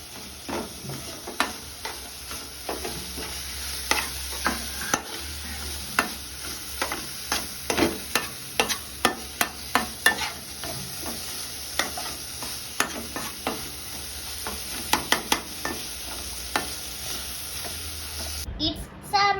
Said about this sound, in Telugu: ఇవన్నీ కలిసేటట్టు కలుపుకోవాలి